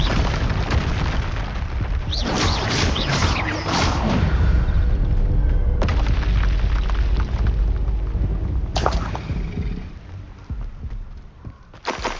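In Hogwarts Legacy, a Confringo spell explodes with loud booming blasts and crackling bursts, layered over dense combat noise and whooshes that fade toward the end.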